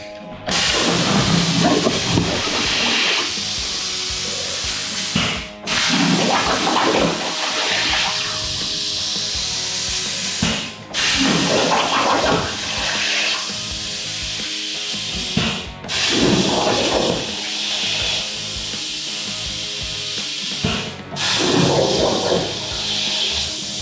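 A machine cuts a metal mounting plate for a CF64 handbrake going into a Nissan 350Z, making a loud, steady harsh grinding rasp in repeated passes roughly every five seconds, each separated by a brief pause.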